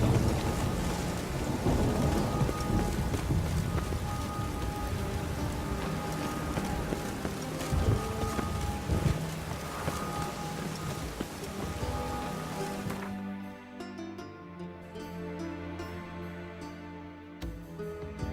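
Rain pours steadily in The Witcher 3 video game, a dense roar of drops with low rumbles of thunder, then thinning into a quieter patter with faint musical tones near the end.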